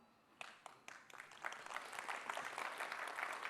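Audience applause at a PMI annual conference talk: a few scattered claps at first, then building into steady clapping from the crowd that swells and holds to the end.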